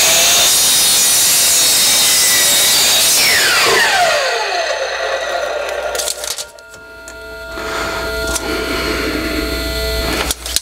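Pieces of wood being hand-sawn for an outdoor utility sink project, a loud continuous rasping stroke that runs for several seconds before slowing into lighter scraping near the end; no talking.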